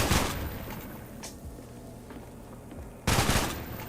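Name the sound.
AK rifle gunfire in a Roblox FPS video game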